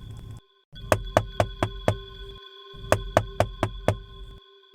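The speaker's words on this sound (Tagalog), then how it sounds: "marinig ko ang makailang ulit na tuktok ng sinuman sa pintuan na yon" Two quick bursts of sharp knocks on a door, each about five rapid raps, separated by a brief pause, loud and close over a low steady background hum.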